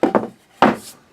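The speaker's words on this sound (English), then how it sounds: "Nice light sanding on the end grain." Three short scratchy strokes of sandpaper lightly sanding wood end grain, two quick ones close together, then a longer stroke after a brief pause.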